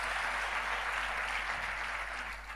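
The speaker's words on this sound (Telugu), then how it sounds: "చప్పట్లు దేవుని మహిమపరుద్దాం." Congregation at a Telugu Christian gathering applauding together in praise, a dense, steady wash of clapping from many hands that fades slightly at the end.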